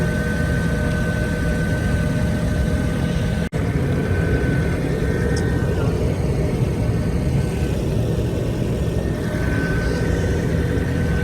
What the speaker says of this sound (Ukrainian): Генератор працює.